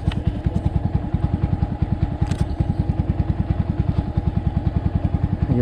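A motorcycle engine runs close by with a steady, rapid, even thumping pulse and a mechanical clatter, loud and alone, with no talking.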